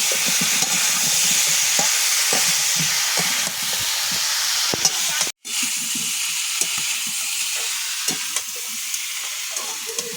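Raw seeded banana pieces with turmeric stir-fry in a pan, giving a steady close sizzle broken by repeated scraping strokes of a spatula, with one brief cut midway.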